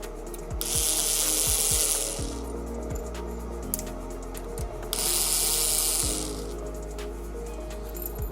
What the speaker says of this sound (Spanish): Tenemos que retirar los tornillos de la misma.